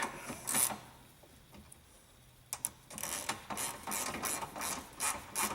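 A socket wrench snugs up the bracket bolts of an LED hood light conversion kit on a John Deere 4WD tractor, giving quiet ratcheting clicks and mechanical clatter in short bursts, with a brief pause in the middle.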